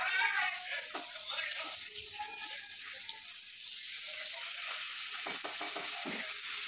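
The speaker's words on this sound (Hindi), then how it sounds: "उधर फिश फ्राई हो रहा है और फिश गोटा गोटा ही रखेंगे और इसको फ्राई करेंगे" Pieces of fish frying in a pan give a steady, close hiss of sizzling oil, with light stirring and utensil clinks near the end.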